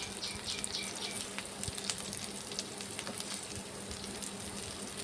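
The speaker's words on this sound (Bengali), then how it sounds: "কি সুন্দর লাল লাল করে ভাজছে।" Small shrimp fritters sizzle in hot oil, a steady close crackle with scattered pops and spits that runs unbroken throughout, with no voices over it.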